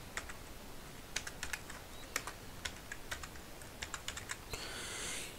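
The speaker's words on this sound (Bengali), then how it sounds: "এখানে অ্যাকাউন্ট নাম্বারটা আবার টাইপ করে দেবো।" Account number typed on a computer keyboard: a run of crisp, close key clicks in short bursts and pauses, fairly quiet, with no talking.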